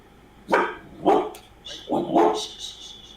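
A dog barks nearby in four distinct loud barks with short gaps between them, the last two running close together.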